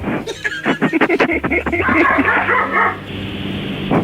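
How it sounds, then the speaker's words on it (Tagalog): A dog barks in quick repeated bursts close by, mixed with excited yelping, while people talk loudly over it. "Tumatawal po yung aso."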